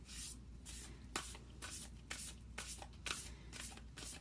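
Moonology oracle cards being shuffled by hand, a rapid series of crisp riffling bursts repeating close up, with no voices.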